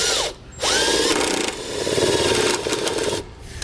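A power drill with a 5/16" bit driver spins a self-tapping screw to start a hole for a Curt trailer breakaway kit, giving a loud whirring grind that cuts out briefly and then resumes.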